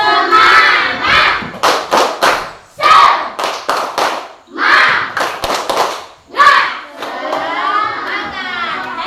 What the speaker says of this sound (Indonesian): Sekarang kita sama-sama tepuk semangat.